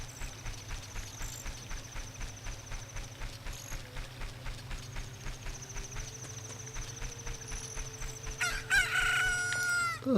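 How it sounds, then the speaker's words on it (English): A chicken crows loudly near the end in Zelda Ocarina of Time, after a long run of rhythmic clip-clop hoofbeats and a steady background tune. "Look, a chicken hatched from the egg you were incubating."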